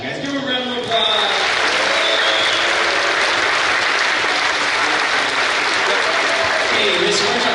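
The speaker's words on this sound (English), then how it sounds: "Give them a round of applause." An audience applauds after a first grade school concert at an elementary school, a steady, full burst of clapping that rises sharply after a brief quieter start and keeps going evenly to the end.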